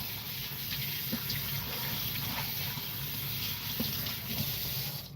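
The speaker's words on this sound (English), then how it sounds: "Well, I'm gonna wash it, then marinate it." A kitchen tap runs steadily while raw meat is washed before marinating, a continuous soft hiss of flowing water with faint splashes and clinks beneath it.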